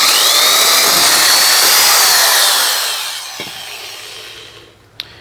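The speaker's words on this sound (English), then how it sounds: "the drill bit's a wood drill bit with a little pointer on the top" A power drill with a pointed wood bit bores through a piece of wood for a palm cross, a loud close whine rising and bending in pitch, then fading as the bit breaks through, followed by a couple of light knocks.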